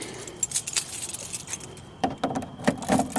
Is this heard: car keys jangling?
yes